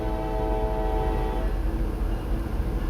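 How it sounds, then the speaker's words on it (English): A train rumbles past close by with a loud, continuous low roar, and a sustained horn blast sounds over it for about the first second and a half before the rumbling carries on alone. "Oh, I can see the train."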